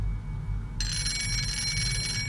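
A phone rings in the horror mobile game Night Terrors: Bloody Mary, a bright electronic trill that starts suddenly and keeps going over a low background hum.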